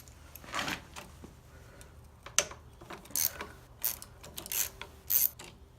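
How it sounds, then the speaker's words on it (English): A ratchet works a bolt loose on a Yamaha PW50 engine, giving several quick bursts of clicking pawl ticks in an irregular rhythm, close and fairly crisp over a quiet background. "next we're going to undo this bolt here."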